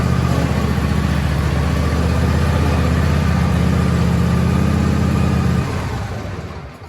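A John Deere D130 lawn tractor engine idles steadily and loudly up close, a low pulsing drone that holds even for about five and a half seconds before dropping away and fading out.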